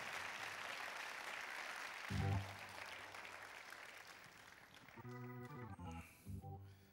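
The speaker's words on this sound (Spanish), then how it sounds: "Denle un aplauso fuerte al Señor" A church congregation applauds loudly, a dense steady clapping that fades as a voice begins speaking over it in the final seconds.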